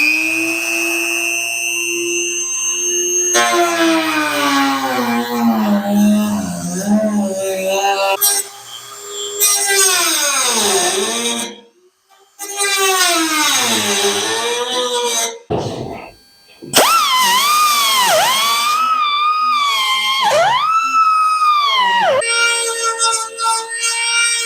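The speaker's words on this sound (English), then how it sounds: "I'll start using a Dremel tool with a cutter on it to get it close." A Dremel rotary tool with a cutter and an angle grinder cut into a car body panel, producing a loud, high whine that sags and recovers in pitch under load, with a few brief pauses.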